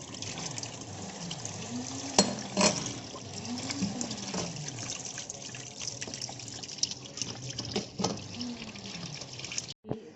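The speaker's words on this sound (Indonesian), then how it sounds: "Kita cuci buah, baru kita kupas. Cuci dulu." Fruit rinsed under a running kitchen tap, a steady close stream of water splashing and trickling in a sink, with brief louder knocks and splashes as the fruit is handled, no talking.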